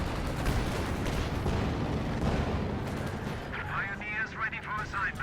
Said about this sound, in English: They're all firing at the KT